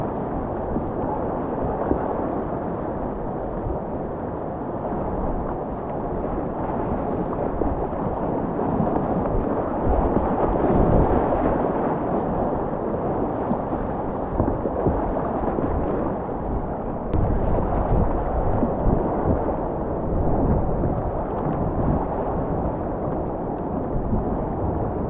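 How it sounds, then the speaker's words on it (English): Whitewater rapids at Little Falls on a river roar in a steady, loud, broadband rush that holds for the whole stretch without a break, heard up close with no voices. "that next big sound you hear is the actual event, Little Falls, rather than some more waves like Midway."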